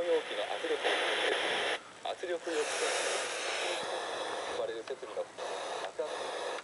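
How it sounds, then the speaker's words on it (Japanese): A homemade multi-function radio running on Eneloop rechargeable batteries picks up a station, its hissy, static-laced broadcast voice playing continuously through a small speaker at moderate volume, with brief dips in the signal. "ラジオもですね はい こんな感じで拾ってくれます"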